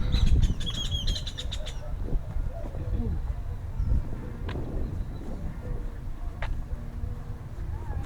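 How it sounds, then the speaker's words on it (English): Grackles chatter with sharp clicks, whistles and chirps in a town in Bacalar, Mexico, heard over low street rumble and wind, while people talk throughout. "Who's making that chatter? Huh. We know who it is. It's the grackles."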